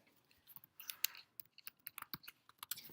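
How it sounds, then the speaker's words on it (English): Typing on a computer keyboard, quick irregular key clicks and taps in short bursts, close but fairly quiet, no talking. "I have to type it out"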